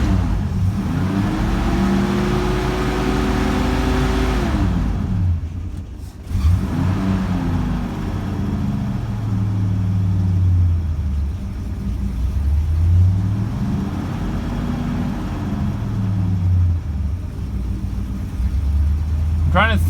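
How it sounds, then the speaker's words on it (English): A small engine with a modified carburetor runs with the choke opened fully, idling unevenly and rising and falling in pitch as revs surge and sag, loud and close, with a person talking over it. "it just doesn't want to idle quite yet, so let me try opening my choke all the way"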